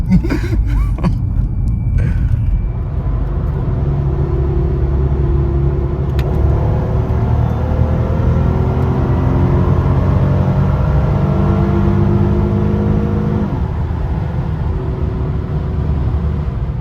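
A custom-tuned Mercedes-AMG car accelerates hard, its engine giving a loud, steady rumbling roar that climbs through the gears, with brief laughter near the start.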